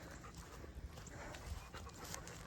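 A dog pants close by at a chicken coop outdoors, a steady rhythmic breathing over broad low rumble and background noise.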